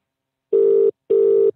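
A telephone call rings out on the line, two steady electronic ring tones with a short gap between them, clear and close with no talk over them.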